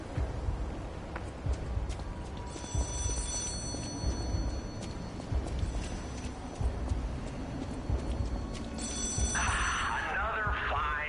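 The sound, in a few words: telephone ringing in the video game Lies of P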